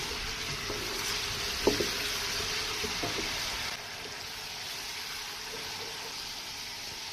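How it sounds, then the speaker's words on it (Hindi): Onion frying in hot cooking oil for a bhindi curry makes a bright, steady sizzle with a few stirring clatters early on, close to the pan, then settles to a quieter continuous hiss. "कच्चापन दूर होने तक पकाएंगे प्याज को"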